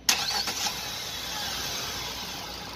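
A Hyundai Grand i10 with a rebuilt 1.2 Kappa VTVT petrol engine cranks and fires up close by, a short loud start burst that settles within a second into a smooth, steady idle.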